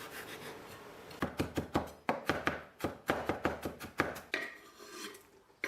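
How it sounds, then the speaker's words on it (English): Peeled ginger is chopped finely with a knife on a board, a run of brisk, evenly spaced close knocks over about three seconds, with quieter scraping before and after. "remove the skin from the ginger and chop this down as finely as you can"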